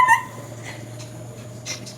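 A baby dog whimpers in short high yelps near the start, then softer faint whines follow over a steady low hum.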